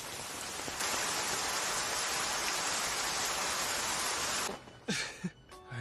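Steady hissing rain pours down for about four seconds, then stops abruptly, leaving a few scattered knocks and a short voice-like sound.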